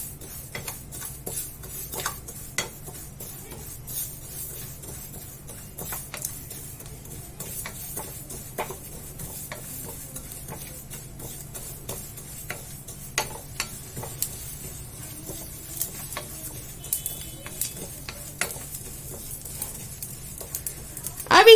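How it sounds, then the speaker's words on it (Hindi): Fenugreek, cumin and carom seeds dry roasting in a pan, with fennel seeds among them for a bitter gourd pickle: a quiet, steady rustle of seeds broken by frequent light scrapes and taps of a spoon against the pan. "अब हम इन मसालों को रोस्ट कर लेंगे।"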